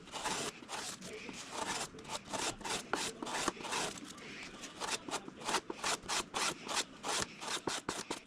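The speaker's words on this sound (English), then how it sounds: "shaping and sanding more vertically did a much better job" Hand sanding and shaping the canopy rail of a DR-107 One Design RC plane makes a rapid, rhythmic rasping, with steady back-and-forth strokes close by that are loud and continuous and carry no voices.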